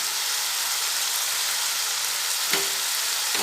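Mushrooms fry in a pan with tomatoes, giving a steady, close, broadband sizzle that holds evenly throughout, with one brief soft clink partway through and no voices.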